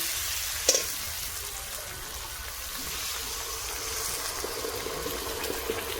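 Pointed gourd and potatoes fry in a pan as water is poured in, a brief splash followed by a steady, even sizzle that hisses on alone for several seconds.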